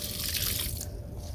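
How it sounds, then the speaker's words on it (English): Water pours in a steady, close hiss onto a potted plant indoors, then thins to a softer trickle near the end, with no one talking. "I'm going to put some water on my plant"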